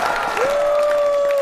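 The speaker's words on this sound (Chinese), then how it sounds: "掌声欢迎我们的伊丽静老师" Studio audience applause welcoming a guest onto a Chinese comedy talk show, a dense steady clatter of clapping throughout with a sustained tonal musical note running underneath.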